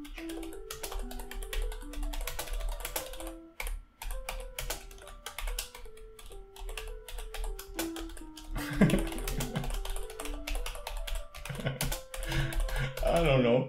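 Rapid, continuous keystrokes on a computer keyboard play over melodic notes from a musical typing web page, with the typing loud and close throughout and a voice briefly audible near the end.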